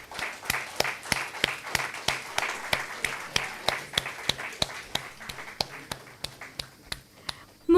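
At an alumni meet, a small group claps in a slow, regular rhythm, each sharp clap distinct and fairly close, keeping a steady beat for several seconds before stopping.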